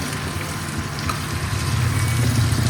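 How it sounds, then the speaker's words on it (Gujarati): Spicy potato curry with red chili powder being stirred in a pan, giving a steady close sizzle with soft scraping movements throughout and no talking. "અને પાછળ સરસનું હલાવી નાખશું શાકને. મિક્સ કરી દઈએ શાકને."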